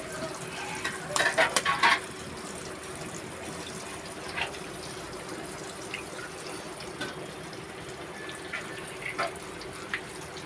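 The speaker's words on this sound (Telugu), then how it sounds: "ఈ రకంగా గుడ్లు నూనెలో కొట్టేసుకోండి" Eggs cracked into hot oil for an omelette curry sizzle with a steady, soft frying hiss. A brief cluster of clattering knocks comes early, then faint scattered ticks follow.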